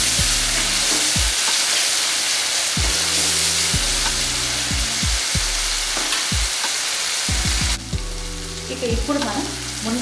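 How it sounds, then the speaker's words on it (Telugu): Ginger garlic paste fries in a pan with a steady, loud, close sizzle that runs the whole time, broken by low tonal scraping as it is stirred, with no talking. "ఇలా అల్లం వెల్లుల్లి పేస్ట్ని మొత్తం మనం ఒకసారి పచ్చివాసన పోయేంత వరకు వేయించుకోవాలి."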